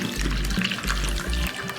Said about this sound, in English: First we should pour some water.